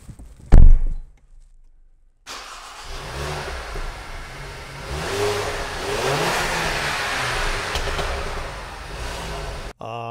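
A 2013 Range Rover Evoque, already warmed up, starts with a sharp burst, then after a short gap its engine settles into a steady run with rising and falling revs, loud and close, with no talking.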